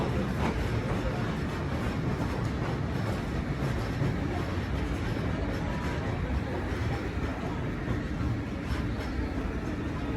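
The Watarase Keikoku Torokko sightseeing train pulls into Mizunuma station with a loud, continuous rolling rumble and rail noise that holds steady throughout, close by and without pause.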